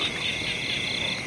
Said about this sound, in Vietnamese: Mọi người nghe nhái nó kêu không? Giờ mưa là nhái dữ lắm nha.